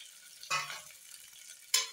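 Onion, garlic and dried red chillies fry in oil for a dal curry, a soft sizzle with two brief louder bursts of stirring and scraping in the pan.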